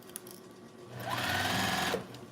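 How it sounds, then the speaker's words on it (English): A sewing machine runs in one close, loud burst of about a second of steady mechanical whir, starting and stopping abruptly, with quieter room sound before and after. "my daughter likes the sound of your sewing machine"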